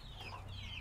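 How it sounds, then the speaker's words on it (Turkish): A hen of a blue-egg-laying breed gives a short, soft clucking call, faint and nearby against quiet farmyard background, with no talking. "Mavi yumurtayı yapan tavuk bu."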